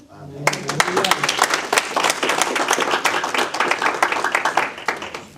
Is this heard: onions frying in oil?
no